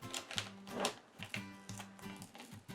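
Transfer tape peels gently off a vinyl stencil on canvas in a series of small crackling, ticking tugs, a quiet close sequence of rapid sticky snaps over a faint low hum.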